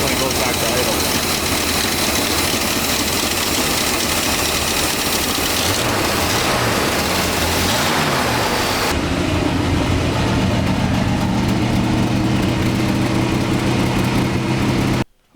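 A 1964 Ford Fairlane engine idles unevenly and hunts after carburetor work, a loud, close rumble that shifts pitch partway through before cutting off abruptly at the end.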